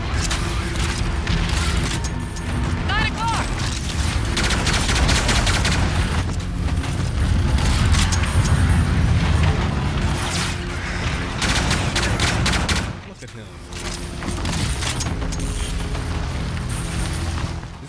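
Dense video-game gunfire from the Call of Duty Infinite Warfare campaign, with rapid automatic bursts and heavy booms running almost continuously, a brief lull near the end, then more firing.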